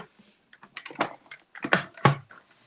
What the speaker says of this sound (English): So I'm going to use my cut and emboss machine.